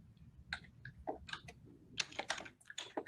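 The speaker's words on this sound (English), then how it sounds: "I was just typing something in the chat." Computer keyboard typing in irregular bursts of crisp key clicks, close and moderately quiet, with a short pause between flurries and low background hum.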